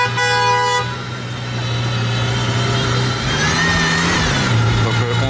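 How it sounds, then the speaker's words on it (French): An Aston Martin Valkyrie hypercar horn honks in a steady sustained toot, close and loud, over the rumble of idling engines nearby. "Donc on sait maintenant que la Valkyrie a un klaxon."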